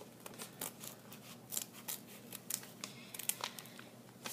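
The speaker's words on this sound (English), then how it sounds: "The best way to use the scissors is to bring the felt into the blade." Quiet, close snipping of scissors through soft felt, a steady run of short crisp cuts in an irregular rhythm.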